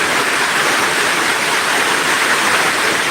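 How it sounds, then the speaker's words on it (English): Heavy rain pouring down continuously, a dense, loud, even hiss with no pauses and no voices. "Rain is falling here. There's serious rain here in my area, like very serious."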